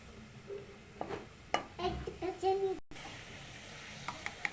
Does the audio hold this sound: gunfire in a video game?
no